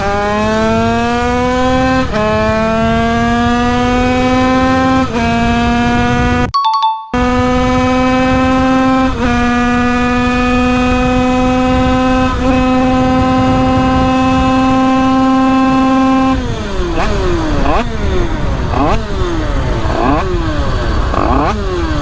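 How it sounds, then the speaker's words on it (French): A 70cc motorcycle engine with a 14.53 transmission accelerates from standstill to top speed, its loud, close whine climbing in pitch through repeated gear changes before a series of rising and falling revs near the end. "Oh, elle chante bien quand même cette moto"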